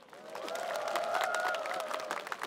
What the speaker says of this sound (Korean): 여기서 한 번 더 박수 한번 주실까요?